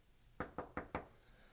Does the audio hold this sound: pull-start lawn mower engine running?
no